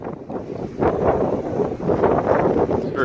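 Strong wind buffeting the microphone at Mission Bay, a steady rushing roar with gusts swelling louder through the middle, close and constant.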